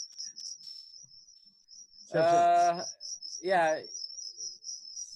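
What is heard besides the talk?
crickets chirping from the village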